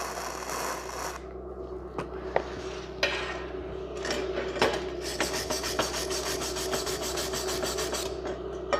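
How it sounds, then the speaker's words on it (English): A BestArc MIG145 welder doing MIG welding: a quiet, dense, crackling rasp. It starts, breaks into scattered ticks and pops, then settles into continuous sputtering near the end. No one speaks. "This is my first time welding with this machine, and it's doing the job."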